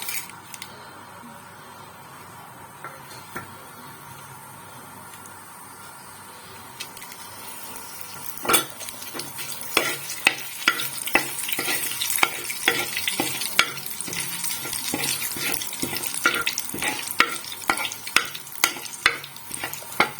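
Bay leaf, cumin seeds and dried red chili hitting hot mustard oil in a home kitchen: a quiet start, then a sharp burst of sizzling with crackling pops and stirring scrapes that continue steadily.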